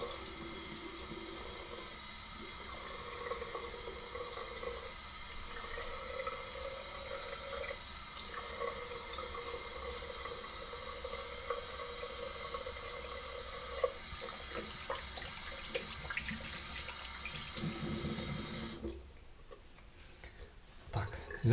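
Tap water runs into a sink as a face is wetted before shaving, a steady close splashing stream with small interruptions, and someone talks over it before the flow cuts off near the end.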